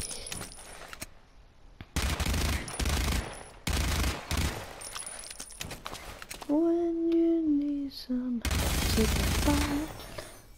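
Machine gun pistol firing in the shooter game Blacklight Retribution, heard as several loud, rapid bursts of gunfire broken by short gaps, with a brief tonal passage between bursts.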